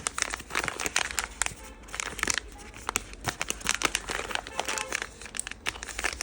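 Plastic wrapping on a Creality spare part for a K1 3D printer is torn open, making dense, close crinkling and crackling with sharp tearing bursts throughout. Someone speaks briefly over the handling.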